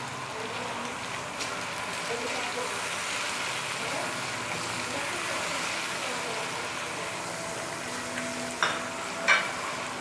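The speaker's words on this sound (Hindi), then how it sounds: "इनको अच्छी तरह से भून लेंगे।" Onions sizzle in hot oil with salt and chili for Sindhi biryani, giving a steady, dense crackle throughout with a couple of light utensil taps near the end.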